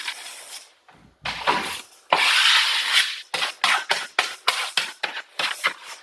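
A putty knife spreads wood filler into cracks in a sanded maple floor, with a long rough scrape followed by a run of short, rhythmic rubbing strokes, close up and alone.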